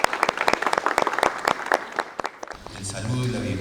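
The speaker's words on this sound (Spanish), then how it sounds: "Lo recibo, por favor, con un fuerte aplauso." Audience applause in a hall at an agriculture ministry panel event in Peru. Loud, dense clapping fills the first two and a half seconds, then thins out, and a voice starts speaking over the last few claps.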